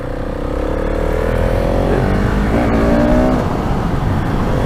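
A GasGas SM700 motorcycle rides along with a loud, steady engine drone, its pitch climbing gradually through the gears with brief revs, over heavy wind and road rumble and no talk.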